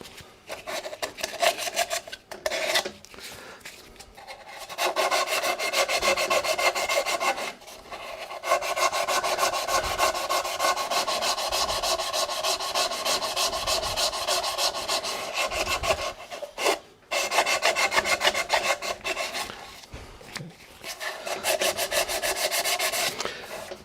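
Sandpaper rubbed by hand over a wood-turned yarn bowl, a continuous close rasping scrape in long strokes, broken by a few short pauses, with no talk.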